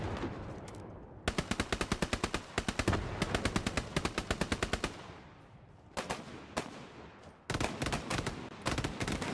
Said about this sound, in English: Machine gun on ping.